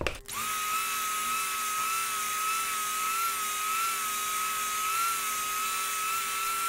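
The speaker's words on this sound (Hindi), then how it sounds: "मैं ब्लेंडर यूज़ करूँगी।" An electric blender whips sponge cake batter, starting abruptly and then holding a steady, even motor whine with a droning hum throughout, alone without speech.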